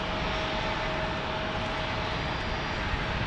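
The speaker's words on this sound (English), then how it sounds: "The Boeing 100 Years livery right there." A Boeing airliner in Boeing 100 Years livery on a steep approach to San Diego airport gives a steady, fairly loud jet engine roar with a faint whine, uninterrupted by voices.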